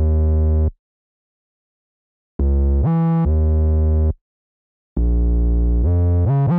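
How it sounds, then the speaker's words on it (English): A deep UK drill sub bass plays in short, loud phrases with pauses between them, and its notes slide in pitch between one another. No voice is heard. "I just added some glides to it as well, and I was happy with how the bass line ended up sounding"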